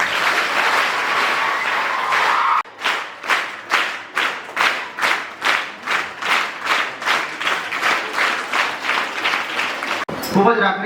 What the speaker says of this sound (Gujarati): મજા આવી હોય તો જરા તાળીઓનો ગળગડાટ કરાવી દો.